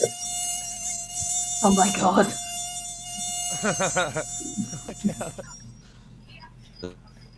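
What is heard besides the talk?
mosquito buzzing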